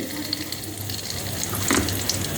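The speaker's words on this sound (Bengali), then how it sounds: "এই দেখো মাংসে ফোড়ন দিচ্ছি জিরা ফোড়ন" Cumin seeds and garam masala tempering sizzle in hot oil for a meat curry, a close, steady crackling fry that swells briefly near the end, with no talking.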